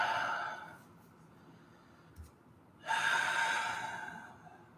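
Deep breathing during a yoga forward fold: a long audible exhale that fades, a brief sniff, then a strong inhale that rises and tapers off, close and unaccompanied by talk.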